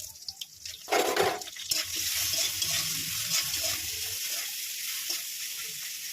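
Mango pieces hit hot oil in a pan with dry red chilli and mustard seeds, giving a loud sizzling burst that settles into a steady, close frying hiss with faint stirring.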